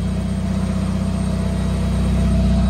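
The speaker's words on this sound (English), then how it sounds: "It's been idling for about 15, 20 minutes now with intermittent revving" A car engine idles steadily with its bay stuffed full of computer fans, a close, loud low rumble with an even, continuous hum and no clear revving.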